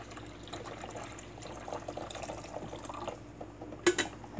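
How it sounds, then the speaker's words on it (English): Clean water running through a coffee pot: a soft, close trickle and gurgle of flowing liquid with faint drips, ending in a sharper clink near the end, with no talking. "Now I'm just going to run clean water through about 3 or 4 times."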